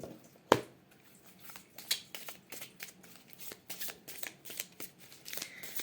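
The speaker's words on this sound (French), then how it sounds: "on va prendre une petite carte du petit oracle de l'intuition pour vous" A deck of oracle cards being shuffled by hand during a tarot reading, with a sharp snap near the start followed by a run of soft, rapid riffling and sliding bursts, close and fairly quiet.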